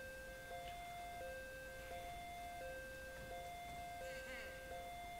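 A video game emergency-vehicle siren left running, cycling steadily between two pitches in a repeating wail, moderately loud over a continuous background rumble.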